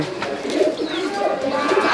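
Close, low throaty cooing of young Koka pigeons in repeated soft rolling calls, with a faint higher chirp mixed in.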